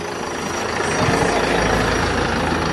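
A mail delivery truck idles in front of a house, its engine giving a steady low rumble that swells slightly partway through, with no voices over it.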